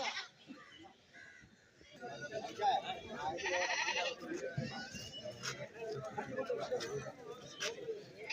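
Goats bleat now and then over the busy murmur of a crowded outdoor goat market in Kerala, with people talking throughout.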